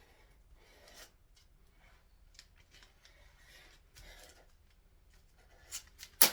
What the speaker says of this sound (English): just cutting the excess pieces off that I do not need